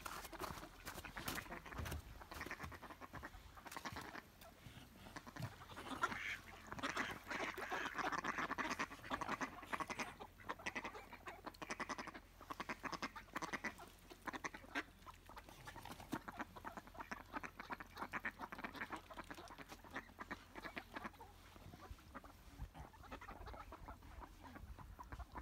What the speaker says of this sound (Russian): сколько уточек и лебеди плавают